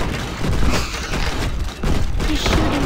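Cannon fire in the video game Castle Creeps, a dense stretch of booming shots and thuds that runs continuously and loudly through the whole stretch, with no voice on top.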